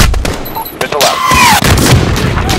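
Missile launch and impact in a realism-mode military campaign game, a loud whooshing launch swelling over a dense rumbling bed of artillery and gunfire, radio voices faintly under it.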